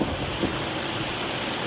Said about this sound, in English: Clap of thunder there.